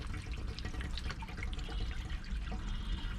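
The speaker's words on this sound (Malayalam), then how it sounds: "ഈ ടാങ്കിലാണ് നമ്മൾ വെള്ളം ഒഴിക്കുക." Water is poured into the radiator tank of a Tata 709 supercharged bus, a soft splashing and trickling stream that runs continuously and quietly, close by and without any voices.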